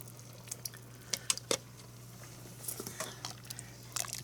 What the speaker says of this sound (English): I'm just going to stir all this up, let this cream cheese melt